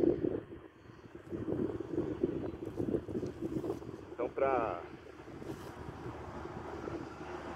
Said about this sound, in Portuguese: hoje não tá um dia bom porque tá ventando muito.